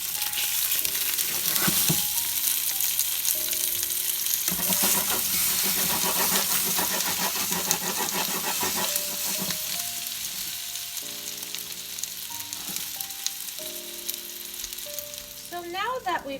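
Meatless sausages and crisp potatoes fry in a pan, giving a loud, steady sizzle that fills the whole stretch, with occasional light clinks from stirring.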